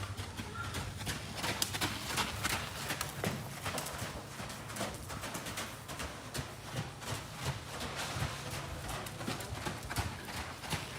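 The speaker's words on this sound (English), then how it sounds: "He's busy feeding and taking care of the horses." Hooves clip-clop steadily as horses shift and move about during feeding at a horse facility, soft irregular steps on hard ground with faint birds in the background.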